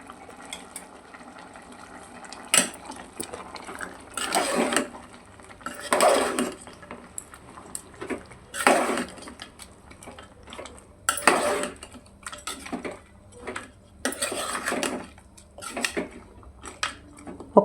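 A spoon clanks and scrapes against a pot while stirring country-chicken curry with masala and ginger-garlic paste, in repeated bursts of metallic scraping between quieter gaps, with a faint bubbling simmer and low hum behind.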